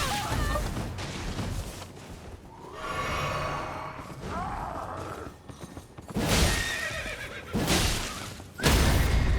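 Several horse neighs and whinnies from Elden Ring ring out, the loudest bursts near the end, over ambient game sound and faint hoof clip-clop.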